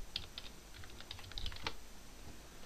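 Quiet typing on a computer keyboard, a few scattered keystrokes in short bursts with pauses between them, heard close and alone without talk.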